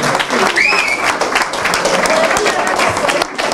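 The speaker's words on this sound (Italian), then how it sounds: "E poi anche un applauso al sindaco" Audience applause at a year-end holiday gathering in a care home, steady dense clapping throughout, with some voices mixed in.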